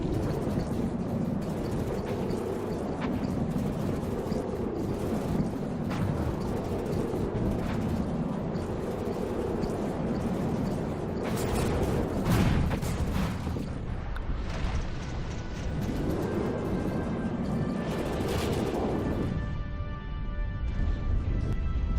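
Missile explosions striking a flying craft in the video game From the Depths, rolling booms and roaring blasts layered over a constant engine-like rumble, swelling and fading across a long stretch.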